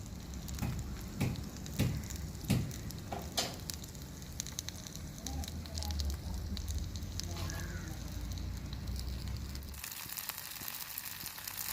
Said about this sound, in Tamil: விரசி வச்ச மீன் எல்லாத்தையும் ஒரு தவாவில் போட்டு வறுத்து எடுத்துக்கலாம்.